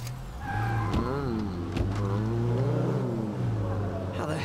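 A car is driven in State of Decay 2, its engine droning steadily with a rising and falling rev pitch under a voice, close and continuous.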